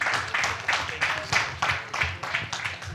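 Applause rings out for Honorable Henry Morris Kivalia at a regional East African Community dialogue on domestic resource mobilisation, with a steady wash of clapping rising and falling in uneven surges through the room.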